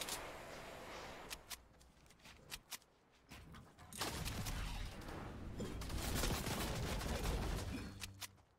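Video game gunfire in a first-person shooter solo versus trio match: a rapid burst of sharp shots, a brief lull, then a long dense barrage of loud, overlapping gunfire.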